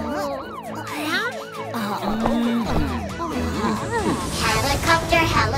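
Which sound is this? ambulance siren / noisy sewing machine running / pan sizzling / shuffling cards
ambulance siren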